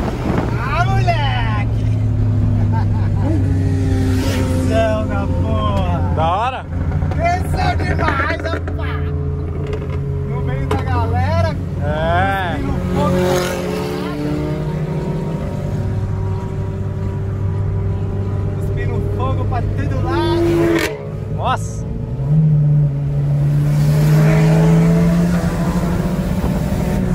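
A VW Gol Turbo car revs and accelerates repeatedly, its engine pitch sweeping up and down through gear changes, loud and close, while voices talk over it throughout.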